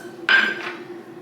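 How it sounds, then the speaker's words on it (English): A fork clinks against a bowl while bread dough ingredients for black activated charcoal burger buns are stirred, one sharp metallic tap followed by a short ringing scrape, close and fairly loud over a steady low hum. "So we're gonna add it 1 cup at a time while we're stirring with a fork."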